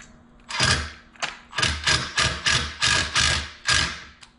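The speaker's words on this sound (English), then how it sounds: "I'm just using my power tools, just make it a little bit quicker and easier." Power tool (impact driver) fastening a bolt during assembly of an electric ATV, a series of sharp rattling bursts in a steady rhythm, close and loud.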